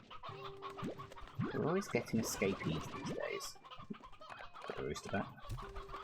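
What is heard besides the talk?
chickens clucking in Slime Rancher 2 video game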